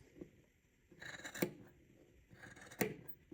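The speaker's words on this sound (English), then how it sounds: "I'm just going to cut at an angle." Scissors snip through macrame cord at an angle, with two sharp close cuts about a second and a half apart over a quiet background.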